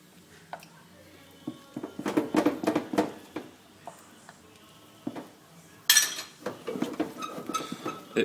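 A polenta gratin mixture with egg yolks is stirred in a bowl, with a utensil scraping and clinking against the sides in uneven bursts that grow busier and include a few sharper knocks.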